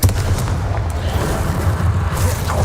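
A Confringo fire-blast spell explodes in the video game Hogwarts Legacy, a loud booming burst with a deep rumbling low end that stays dense and sustained across the moment, with no talk over it.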